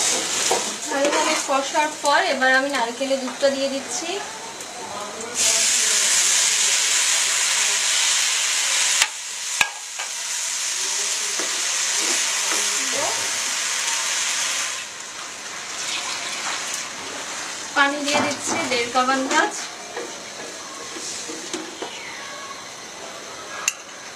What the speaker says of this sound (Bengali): ঘি এবং তেল মেশানো ভালোভাবে কষাবো